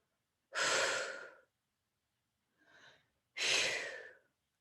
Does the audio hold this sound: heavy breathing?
yes